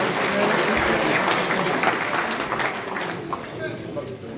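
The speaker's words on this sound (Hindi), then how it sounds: "तालियां बजा कर सभी साथी स्वागत करें" A crowd applauds to welcome a politician at a political gathering, with steady clapping under a murmur of voices throughout.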